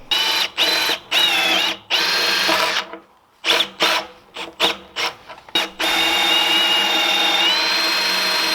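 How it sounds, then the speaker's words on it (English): A power drill bores into a garage post to free bolts, whining loudly up close in long runs broken by a flurry of short stop-start bursts, then one sustained run at the end. "We're gonna have to drill in from the back and pop those bolts out"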